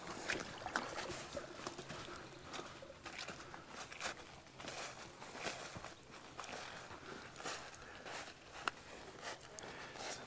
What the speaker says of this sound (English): Beautiful little mountain creek here.